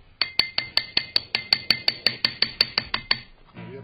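A metal tool taps arc-weld slag to break off the crust, making about fifteen sharp, ringing metallic knocks in a steady, even rhythm, close and loud, before a short scraping rustle at the end.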